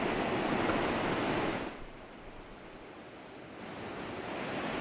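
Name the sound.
floodwater rushing through the Gandak barrage gates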